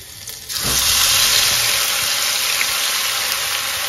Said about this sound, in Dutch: Dan ga ik mijn uien, knoflook bakken.